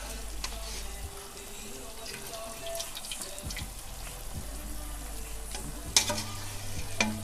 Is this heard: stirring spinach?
yes